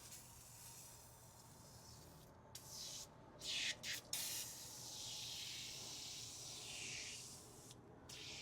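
An aerosol can sprays onto a car headlight in repeated hissing bursts, several short blasts followed by longer sustained sprays, close and fairly quiet.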